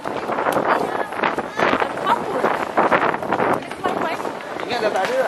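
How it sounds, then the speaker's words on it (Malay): Wind at a beach during a seaside festival, loud broadband buffeting and gusting roar close to the microphone, fluctuating throughout, with people's voices mixed underneath. "Angin."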